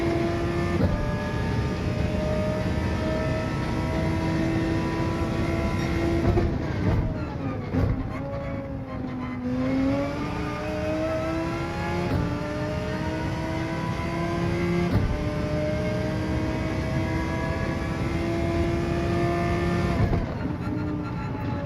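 Audi R8 Gr.3 race car engine in Gran Turismo 7 at Interlagos, a continuous, close engine note that climbs and drops through several gear changes and revs, steady and loud with no voices.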